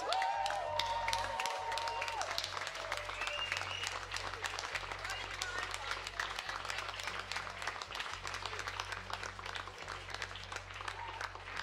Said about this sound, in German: Also echt großen Applaus.